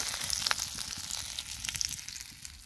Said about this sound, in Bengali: এই যে আর 2 পিস আছে ভেজে নিতেছি